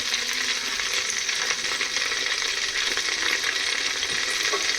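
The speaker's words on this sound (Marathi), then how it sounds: "ह्या चरबीचं तेल बाहेर निघेपर्यंत आपण याला असं हलवायचं आहे सतत हलवत राहायचं" Mutton fat fries in a clay pot while being stirred, a steady, loud, close sizzle with faint scraping and clinks from the stirring, and no voices.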